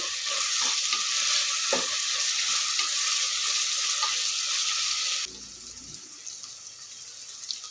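Avarekayi field beans fry in a pan and are stirred, a strong close sizzle with scraping stirs that drops to a softer, quieter hiss partway through.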